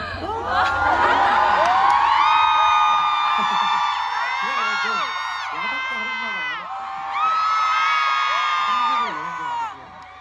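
A crowd of fans at a 2024 concert cheers and shrieks loudly, with high-pitched whoops rising and falling in waves across the whole stretch.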